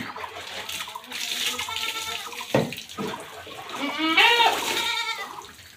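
Water poured over a goat's body during a bath, splashing and running in uneven bursts, with goat bleats breaking through near the middle and end.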